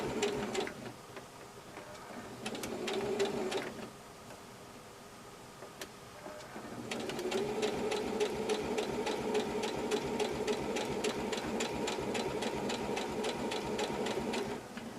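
A sewing machine runs in rapid rhythmic bursts, pausing briefly, then stitching steadily again for a long stretch, close and clear.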